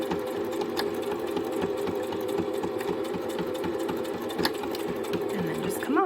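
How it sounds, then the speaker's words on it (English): A sewing machine back stitches several times across a tote bag, a steady rapid mechanical whir with faint rhythmic clicks, close and moderately quiet, running without speech until a brief squeak at the end. "As I come here, I'm going to back stitch several times."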